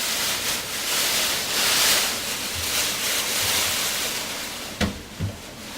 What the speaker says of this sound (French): On entend encore le roulis des vagues s'échouant sur la plage.